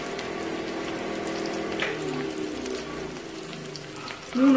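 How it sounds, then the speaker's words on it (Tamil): A steady whooshing hum of a kitchen exhaust fan runs throughout at moderate volume, with faint clinks and no talking. "அது சிம்னி ஓடினது, அப்படி சத்தம் கேட்டது."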